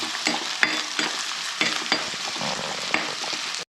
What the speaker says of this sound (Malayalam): ആദ്യം ഉള്ളി ചതച്ചത് വാട്ടിയെടുക്കണം